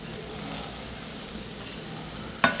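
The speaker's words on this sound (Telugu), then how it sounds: "అస్సలు గ్రేవీ లేకుండా నేను ఫుల్గా రోస్ట్ చేస్తాను" Kingfisher fish roasting dry in a pan with no gravy, a steady soft sizzle with faint stirring throughout and a brief sharp scrape of the utensil near the end.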